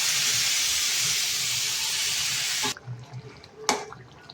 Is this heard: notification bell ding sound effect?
no